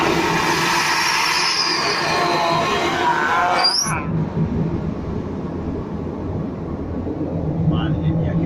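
Vacuum toilet aboard a Boeing 787 airliner flushing: a loud rising whoosh and suction that cuts off sharply with a clunk, followed by the steady drone of cabin noise.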